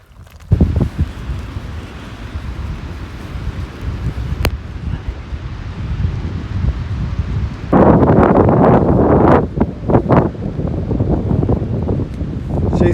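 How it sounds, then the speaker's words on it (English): Wind buffets the microphone on a beach at a river mouth by San Josef Bay, a steady loud roar that rises sharply in the second half. "it's a bit windy."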